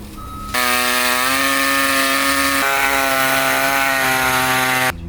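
A power saw cuts through an MV Triton Rockarmor GT bull bar grille, a loud, steady, harmonic whine that starts abruptly, dips slightly in pitch halfway through and stops sharply.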